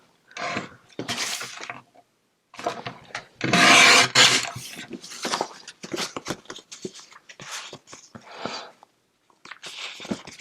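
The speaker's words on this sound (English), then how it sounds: "Then I'm going to go ahead and trim this card down." A Christmas card being trimmed down, bursts of rasping paper cutting and rubbing in irregular strokes, close and fairly loud, separated by short pauses, with no talking.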